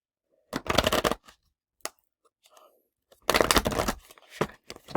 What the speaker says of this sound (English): Let me shuffle, shuffle, shuffle, and see what Spirit has to say.